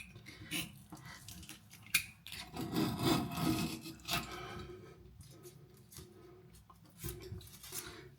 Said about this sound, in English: Using a Stanley knife, we're just going to try and encourage the silicone to come away.